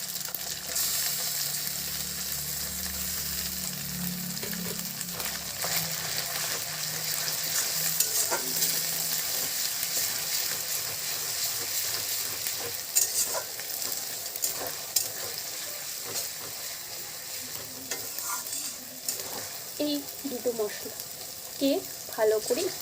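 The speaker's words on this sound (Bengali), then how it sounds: "মশলাকে ভালো করে একটু কষিয়ে নেব" Spice masala with garlic paste frying and being stirred in a pan for Kashmiri-style chicken kanti, a steady close sizzle with scraping stir strokes growing busier toward the end, no talk.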